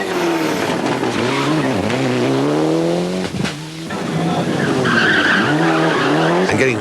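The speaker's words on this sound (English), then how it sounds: "And getting very sideways there was number 4, Enrico Bertoni with the Toyota" A Toyota rally car slides sideways at the 1995 24 Hours of Ypres rally in Belgium, its engine howling in rising and falling sweeps as the tyres skid and scrub loudly across the surface, close and continuous.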